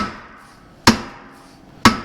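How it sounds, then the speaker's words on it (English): Two sharp, ringing hammer blows on a stuck Subaru wheel bearing, about a second apart, each a loud metallic strike that decays quickly, with no voices. "with different size hammers, air hammers, trying to get chisels back in here, the various air hammer chisels, and trying to separate that bearing"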